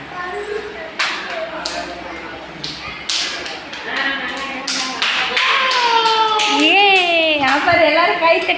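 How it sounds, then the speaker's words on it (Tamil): A group claps hands in praise of a toddler, sharp irregular claps scattered through the stretch, mixed with a voice and adult talk, with a high rising vocal squeal near the end. "அப்புறம் எல்லாரும் கை தட்டுறாங்க உனக்கு."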